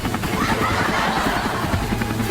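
A large helicopter in flight makes a loud, steady rotor and engine roar with a rapid chopping pulse that fills the whole moment, close and continuous.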